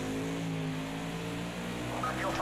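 A race car engine in a NASCAR video game on a snowy track holds a steady, loud droning tone throughout, with a brief rise in pitch near the end.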